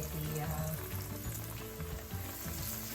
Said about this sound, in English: so they've been frying for about a minute and a half